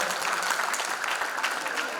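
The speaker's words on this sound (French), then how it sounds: "sous vos applaudissements" Audience applause at a gospel concert, a dense, fairly loud burst of clapping from a crowd that runs through the whole moment.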